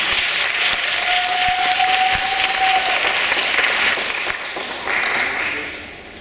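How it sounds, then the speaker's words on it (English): A middle school debate audience breaks into loud, dense applause that runs steadily for several seconds, then thins and tapers off at the end. "Let's give them all a round of applause."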